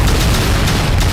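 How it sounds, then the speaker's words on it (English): A big explosion in a stick-figure animation, heard as one loud, dense, continuous boom that fills the short moment with no voices over it. "That's a big explosion!"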